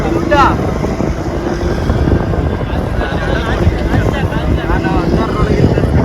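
The Shri Chakra boat's engine drones loudly and continuously on a sea crossing to Netrani island, a heavy low rumble mixed with strong wind buffeting against the microphone.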